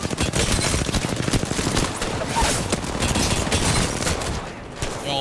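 Dense automatic gunfire from the video game Apex Legends comes as loud, rapid, continuous bursts of shots that fill the whole stretch, with a player's voice faintly underneath.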